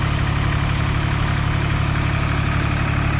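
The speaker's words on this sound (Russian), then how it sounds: "Работает ровно трактор, кстати. Я думаю, слышно это прекрасно." A Hinomoto C174 4WD mini tractor engine of about 18-19 horsepower runs loud and close with a steady, even idle, its low rumble holding constant without knocks or stutters.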